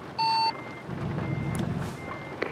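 A truck in American Truck Simulator backs into a parking spot, giving a single short electronic reversing beep followed by a steady low engine rumble.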